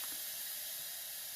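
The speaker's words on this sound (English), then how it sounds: "when all the steam is released, the button drops back down, and now you can open the lid." Steam is released from an Instant Pot pressure cooker holding soup vegetables, a continuous loud, broad hiss that holds steady and close throughout, with no talk over it.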